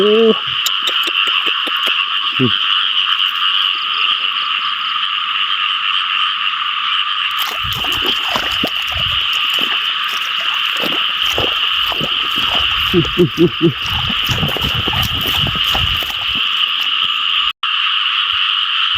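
A chorus of frogs croaks continuously and loudly from wetland at night during a frog-catching outing, with dense overlapping calls and occasional nearby splashes and rustles.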